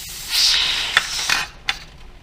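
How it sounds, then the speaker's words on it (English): A steady hiss of steam escapes a pressure canner full of beef stew, broken by a few short sharp puffs as the weight is set on the vent. "Okay, its pressure cooker is vented for 10 minutes, so we're going to put the weight on."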